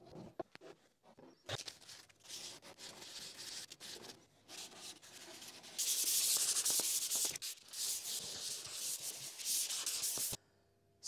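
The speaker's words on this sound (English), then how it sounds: "I've just gone over it with 180 sandpaper just to smooth it all down, get rid of the router marks" Hand sanding of a carved electric guitar neck with 180 grit sandpaper: continuous rasping strokes with brief pauses, loud and close, growing harsher and denser toward the end, with no talk.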